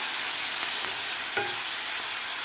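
Crushed garlic and chili thecha sizzles steadily in hot tempering oil for Khandeshi-style brinjal bharit, with a soft stir or scrape partway through, close and continuous.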